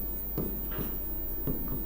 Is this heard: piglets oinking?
no